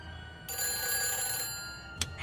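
A telephone rings in the Nancy Drew game The Phantom of Venice, starting after a quiet half second and holding a loud, steady electronic ring for about a second, then a brief second burst near the end, with no talk.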